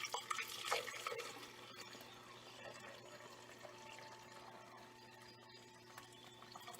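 Hot Chaga tea is poured into a blender, giving a brief splash and trickle near the start that fades to a faint, quiet liquid sound with low background hum.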